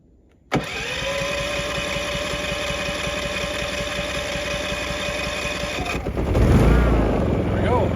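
A Predator 5000 portable generator catches with an abrupt start, then runs at a loud, steady drone with a rhythmic engine pulse, its pitch and loudness shifting near the end as it settles.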